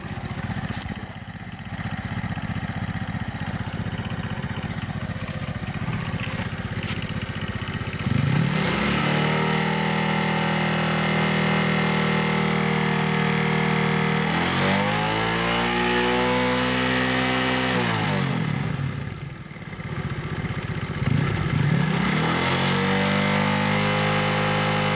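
A motorcycle fitted with a homemade full-wave rectifier starts after a quiet stretch, then idles and revs up and down several times in rising and falling sweeps, loud and close.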